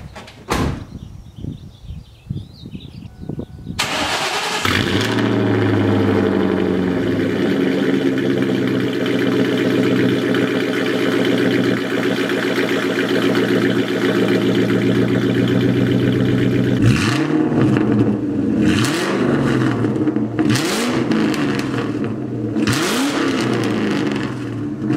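A straight-piped Terminator car with an off-road X-pipe exhaust cranks over and fires up, then idles loudly and revs repeatedly in sharp, roaring bursts toward the end, close and with no talk.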